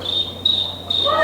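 A small high-pitched ocarina imitates crickets with a sustained shrill chirping tone that breaks briefly, played close and alone over a faint hum.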